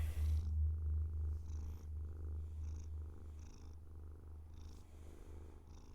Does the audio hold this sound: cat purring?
yes